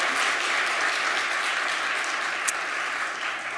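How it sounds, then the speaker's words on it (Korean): Korean church congregation clapping together after a piano, cello and violin trio performance at a Sunday service, dense steady applause filling the hall for a few seconds. "하나님께 모든 영광 올려드립니다 라는 의미로 박수 한 번 더 올려드리겠습니다"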